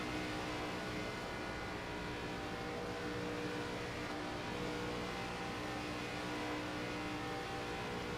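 An ARCA Series race car in the iRacing sim holds a steady, dense engine drone as the driver eases off the throttle to maintain a gap, a loud continuous roar with no speech over it.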